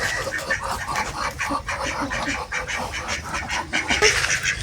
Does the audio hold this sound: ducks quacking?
yes